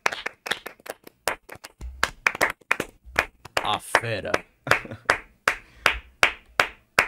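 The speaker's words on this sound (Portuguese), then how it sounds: "uma salva de palmas para Genderson Fonseca" Sparse, sharp claps from an audience at a business talk on artificial intelligence, spaced across the clip and mixed with someone speaking over them.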